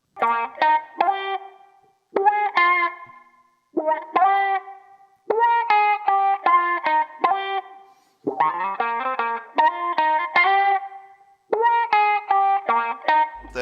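Clean electric guitar played through an Archetype DI Auto Wah Goodness preset. Short funky phrases of plucked notes and chord stabs have a vocal, wah-swept tone, coming in rhythmic bursts with brief gaps between them.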